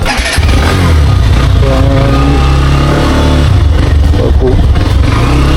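A motorcycle engine runs loud and close throughout, with a steady, rumbling drone and some revving while someone talks over it.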